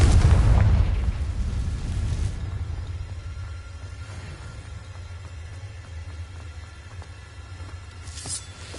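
A Confringo blasting spell explodes in Hogwarts Legacy, a loud close boom with a broad rumbling decay that fades over several seconds, followed by a brief faint burst near the end.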